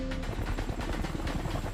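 Helicopter flying low over deep jungle while airlifting oil rig equipment, a steady rotor chop pulsing continuously at moderate distance.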